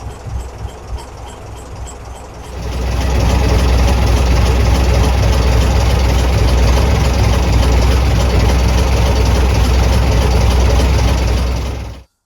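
Diesel engine of an AEC Matador truck idling loudly and steadily close by with a deep, even rumble for about nine seconds, preceded by quieter knocking and then stopping abruptly.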